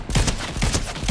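Gunshots in Fortnite ring out in three or four sharp, booming reports spaced evenly about every third of a second, loud and close with no talking over them.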